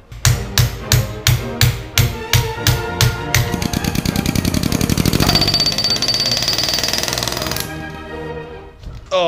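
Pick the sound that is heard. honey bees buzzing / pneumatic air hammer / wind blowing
pneumatic air hammer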